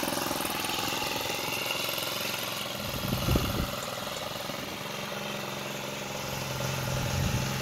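A Huffy Parkside 27.5 motorized bicycle's 38cc four-stroke friction drive engine idles steadily nearby, a constant even hum with a brief slight rise partway through.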